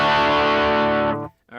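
Electric guitar played through the delay effect of a Line 6 Pod Express, a sustained ringing chord that holds, fades out abruptly, then a brief echoing repeat returns.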